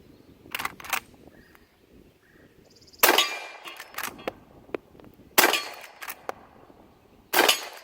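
Marlin 1889 lever-action rifle in .44 WCF firing, four sharp loud reports spread over several seconds, with metallic clacks from the lever cycling in between.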